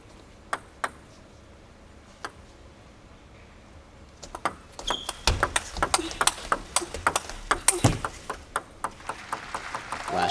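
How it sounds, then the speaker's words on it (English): Flat forehand hits in a women's table tennis quarterfinal at the 2016 Japan Open: a few sparse, crisp ball pings at first, then a busier rally of rapid ticks and taps with faint crowd noise behind. "You could hear the crack sound as she flat hit the ball."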